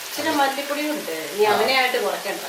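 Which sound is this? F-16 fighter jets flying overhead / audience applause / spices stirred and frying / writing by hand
spices stirred and frying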